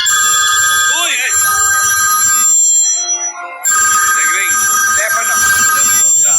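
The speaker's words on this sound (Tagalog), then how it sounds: "Ang lakas ng telepono." A telephone rings loudly and insistently, a bright electronic ring pausing briefly midway before resuming, with voices talking underneath.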